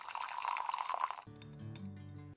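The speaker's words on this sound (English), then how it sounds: "I'm just gonna pour" Liquid being poured while cooking a topping, a steady splashing trickle for about a second before the pour stops and a low, humming background takes over.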